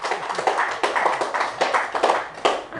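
An audience at a stand-up comedy show claps in an applause break, a short burst of dense hand clapping rising and falling in waves.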